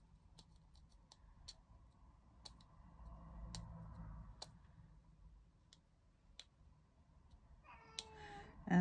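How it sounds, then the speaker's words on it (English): A domestic cat meows loudly and close by near the end, a few drawn-out calls after a quiet indoor stretch with faint scattered clicks and taps. "And the cat starts again."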